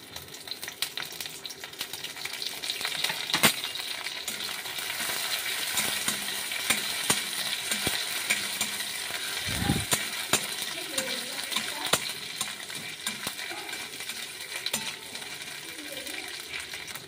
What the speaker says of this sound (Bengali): আমি একটু তেল দিয়ে দিচ্ছি। শুকনো মাছগুলো দিয়ে দিলাম।